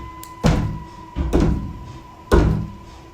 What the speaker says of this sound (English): I've been hearing banging for a good little while now. It comes from the bathroom door over there